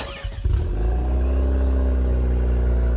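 A 2020 Hyundai Santa Fe starting up, loud like an old hot rod: a brief crank then a deep, rumbling idle that stays steady and close.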